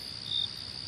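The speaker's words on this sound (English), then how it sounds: "Crickets?" Steady high-pitched chirping of crickets, a continuous thin trill with no other sounds.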